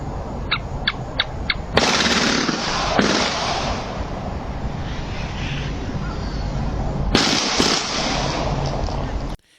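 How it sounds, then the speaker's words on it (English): Automatic gunfire from a switch-equipped handgun in a car-to-car shooting: a few quick sharp pops, then long loud sustained crackling bursts of rapid fire, heard at a distance with heavy ambient noise. "you're going to hear the sound of automatic gunfire, which I believe is coming from a switch."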